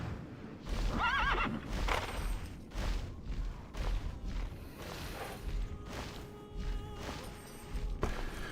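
Horses in the online game Tera whinny loudly and gallop with clip-clop hoofbeats, several neighs rising over a steady pounding stride, with swooshing game effects mixed in and no talking.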